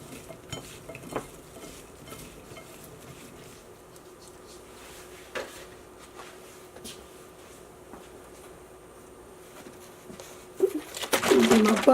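Cut okra is tossed with salt and black pepper, with sparse quiet rustles and taps that swell into a louder, dense mixing rustle near the end, heard close and without talk.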